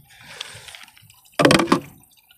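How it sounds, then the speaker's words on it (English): Old water poured out of a kiddie pool onto the ground, a soft trickle followed by a brief louder splashing gush that fades out. "we are going to pour the old water out"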